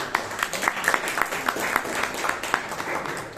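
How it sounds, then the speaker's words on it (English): Applause from a Toastmasters meeting audience in Bangalore, a moderate burst of individual claps with distinct sharp hits over a steady patter, fairly close and continuous. "Please have a round of applause for that."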